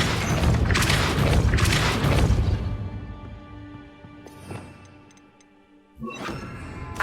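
A forceful spell blast in Hogwarts Legacy knocks into a gate mechanism: a loud burst and crashing rumble, fading into ringing, shimmering tones, then a sharper impact near the end.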